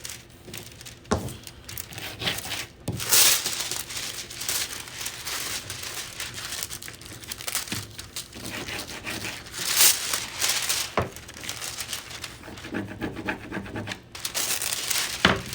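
A fingernail scrubs decorative foil over rough spots in a run of close, uneven rubbing and crinkling strokes. Scratchy bursts come in irregular bunches, with no voices.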